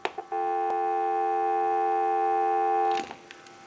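An AT&T 530 Trimline telephone emits a steady dial tone after the flash button is pressed, a loud, clean sustained tone lasting about three seconds, bracketed by brief clicks and handling sounds.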